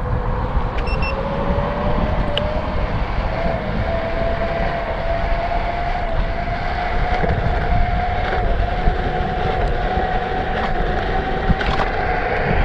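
Electric scooter, an isinwheel i11 with a 350W motor, ridden fast over pavement, giving a steady loud rush of wind and road noise with a faint rising motor whine running throughout.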